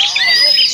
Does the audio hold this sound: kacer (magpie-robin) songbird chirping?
yes